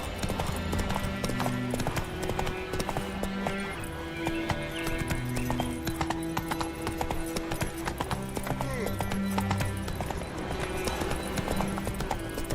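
Horse hooves clip-clopping at a steady gallop in The Witcher 3, a loud, continuous rhythmic pounding with occasional neighs, a voice talking over it.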